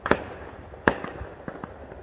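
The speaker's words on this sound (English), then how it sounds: "at least that's some fireworks for you guys" Fourth of July fireworks going off outside at a distance, a handful of sharp scattered pops and bangs at irregular intervals over a quiet night background.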